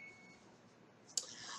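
A kitchen beeper gives a single high electronic beep, faint, near the end of a quiet room tone.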